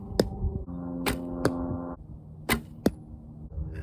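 Wooden arrows striking an archery target during practice, five sharp thuds at uneven intervals over a humming tonal background, fairly close and loud.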